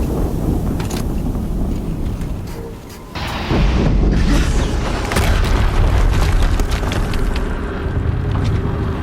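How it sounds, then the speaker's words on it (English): A deep, sustained rumbling explosion from the video game Horizon Zero Dawn, loud and broad, with a sharp rise in intensity about three seconds in before the roar continues steadily to the end. "Another explosion."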